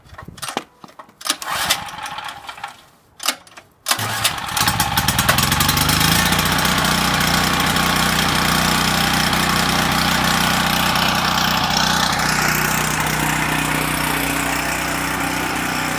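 A Champion generator converted to run on natural gas starts without the choke after a few short pulls, then settles into a loud, steady idle that drones on close by.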